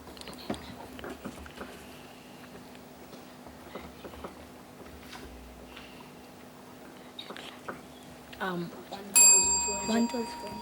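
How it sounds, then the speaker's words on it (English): A quiz show time-up bell rings near the end during a primary school quiz competition, a bright metallic chime following quiet talk and light background noise. "And the bell beat you to it."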